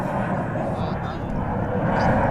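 A United airliner departs DFW airport, its jet engine roar a loud, steady broadband rumble that stays close throughout, with people talking faintly underneath.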